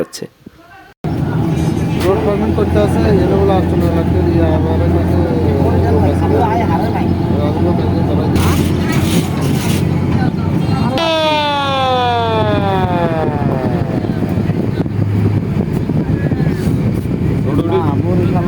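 A passenger launch backs away from a river ghat, its loud throbbing engine droning steadily while a long wavering horn wails over it, with crowd chatter in the background.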